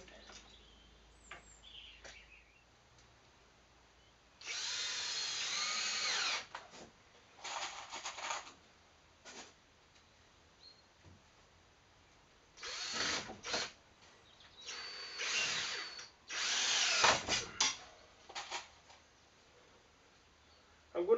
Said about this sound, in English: I'm going to put a few extra screws